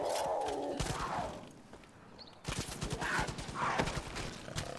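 Sustained automatic gunfire from Far Cry New Dawn rattles in rapid, loud bursts, briefly dipping before resuming, as a player fires continuously at a tough enemy.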